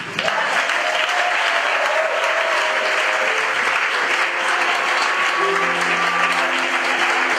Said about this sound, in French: Est-ce que quelqu'un peut acclamer le Saint-Esprit?